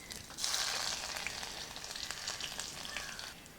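Mustard seeds and ginger fry in hot oil for a beetroot roast, giving a steady, close sizzle with faint crackles and spits throughout and no talking.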